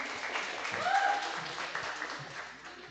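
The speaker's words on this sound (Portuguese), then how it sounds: "Salva de palmas." Applause from a business panel audience greeting the first panelist, the president of CIEG, a steady wash of clapping throughout with a faint whistle-like tone rising briefly in the middle.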